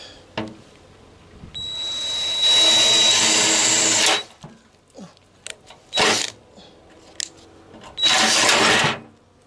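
Power drill boring through the thin sheet-metal bodywork of a classic Citroën Traction 11B trunk, several loud close bursts of high whining and grinding: one long run, a few short jabs, then another sustained burst.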